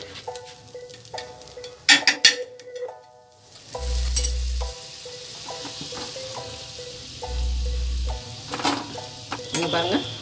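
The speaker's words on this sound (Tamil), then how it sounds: "கொஞ்சம் பட்டர் போட்டுக்கிறேன்" Butter goes into a hot pan while cooking Mumbai-style pav bhaji, giving a clear sizzle with light clinks of utensils and a low hum running underneath.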